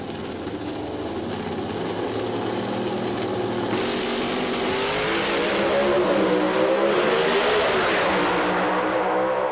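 NHRA drag racing cars at the 1999 Pontiac Nationals in Columbus roar loudly down the strip. The engine howl is continuous and rises in pitch as the cars accelerate, with no voices over it.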